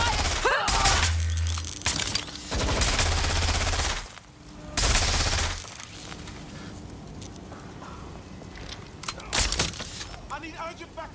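Repeated bursts of automatic gunfire in the video game Watch Dogs Legion, loud volleys separated by short pauses, with a voice speaking between shots and glass-like shattering mixed in.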